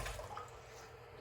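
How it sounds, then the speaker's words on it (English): Six shiitake mushrooms are washed one by one in a bowl of water: brief, faint sloshing and dripping, close and quiet. "I'll just put some water in here and then wash them one by one."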